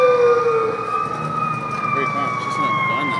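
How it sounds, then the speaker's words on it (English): An ambulance siren wails loud and close at a downtown Las Vegas fire, its tone sweeping slowly downward over rumbling street and engine noise. "Oh, we got another two more ambulances."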